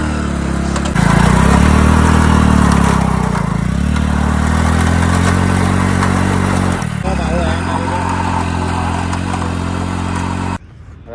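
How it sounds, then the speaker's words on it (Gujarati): A motorcycle engine roars loud and close as the bike performs stunts in dirt, holding a steady rumble with pitch shifts as the throttle changes, then cutting out near the end. "હવે બાઇકમાં થોડા ઘણા સ્ટન્ટ કરીએ માટીમાં"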